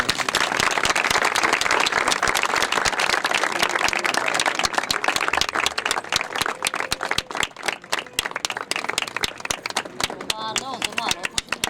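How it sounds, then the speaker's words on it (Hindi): Loud audience applause fills a crowded Hindi-language ceremony for a master-disciple initiation, dense and continuous clapping with voices mixed in throughout. "जोरदार तालियां।"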